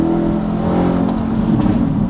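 A modified Chevrolet Corvette C8 with aftermarket exhaust and tune rumbles continuously up close, loud and throaty, with a couple of short sharp crackles from the exhaust.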